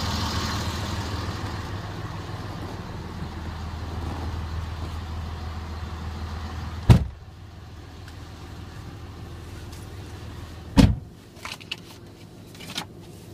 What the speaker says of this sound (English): Clean running diesel starts right up.